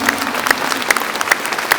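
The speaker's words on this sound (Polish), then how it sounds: "Proszę o szczególne brawa" Audience applause at the closing of an Art Naif festival, steady clapping with regularly spaced sharper accents standing out roughly twice a second.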